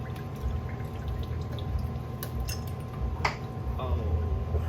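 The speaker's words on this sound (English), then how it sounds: "A little bit more water coming out." Coolant water drips and trickles out of an FB RX-7 12A rotary engine during radiator and water pump work, with faint irregular drips and small splashes over a low steady background.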